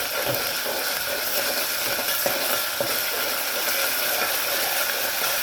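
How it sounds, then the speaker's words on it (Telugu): Onions frying in a pan with ginger-garlic paste for a billala pulusu curry, a steady bright sizzle and hiss throughout with occasional soft stirring clicks, close and continuous, no talking. "ఆనియన్స్ వేసుకోవాలి. ఇట్లా మంచిగా వేగుతున్నాయి కదండి."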